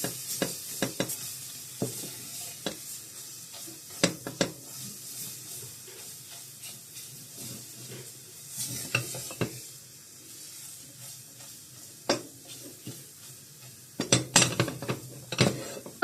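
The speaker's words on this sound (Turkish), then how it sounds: "Şimdi iki malzememi de güzelce kavuruyorum." Tomato paste and flour being sautéed together in a pan for a lentil dish, with a soft continuous sizzle under repeated clinks and scrapes of a spoon against the pan, louder bursts of stirring near the end.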